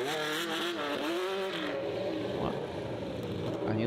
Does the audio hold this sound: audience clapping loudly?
no